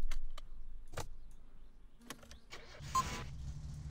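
A car in the game My Summer Car, fitted with drag racing tyres, passes through several sharp mechanical clicks and thumps over a low engine rumble, then a brief burst of broadband noise near the end.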